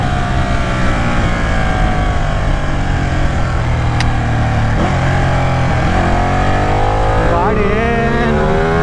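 A Ducati Panigale 899 twin-engine motorcycle with a quickshifter roars loudly and continuously while riding, its engine pitch rising and dropping through smooth gear changes, with a voice talking faintly beneath.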